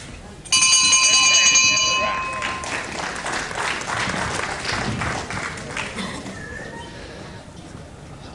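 A boxing round bell rings sharply at the close of round one in a televised bout, a bright metallic clang lasting about a second and a half, then a crowd noise with cheering and talk that carries on underneath.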